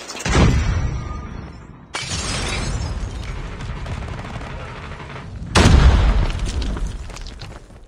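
Loud, close grenade blasts in the video game Call of Duty Mobile during a Search & Destroy match: one sharp boom at the start, a second long rumbling burst at two seconds and a third heavy explosion near five and a half seconds, each trailing off slowly.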